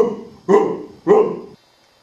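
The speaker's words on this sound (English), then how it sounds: "Dog." Two loud, close dog barks ring out in a children's alphabet song, each a single full bark with a short tail, about half a second apart, with nothing else around them.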